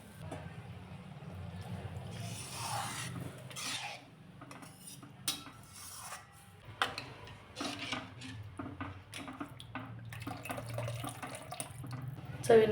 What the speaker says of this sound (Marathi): छोटे 2 ग्लास पाणी घालणार आहे